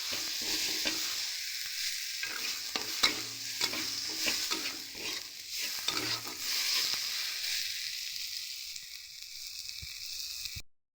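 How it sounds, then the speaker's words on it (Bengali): Spices frying in oil over lowered gas for a vegetarian papaya curry, with steady close sizzling broken by repeated scraping strokes of a spoon stirring the pan, running continuously without any voices. "একটু গ্যাসটা আমরা কমিয়ে ভালো করে ভেজে নেব মশলাটা"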